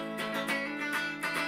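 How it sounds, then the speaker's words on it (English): Clean electric guitar tone from a Fender Stratocaster Vintera 60s on its bridge pickup alone, spank switch off: a short phrase of ringing, bright plucked notes with clear pick attacks, played alone. "this is the sound of the bridge without the spank on and without the dual strap bucker on"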